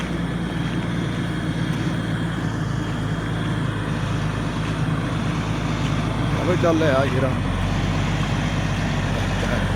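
A heavy engine drones steadily throughout, with a man calling out over it and a brief rise in revving near the end.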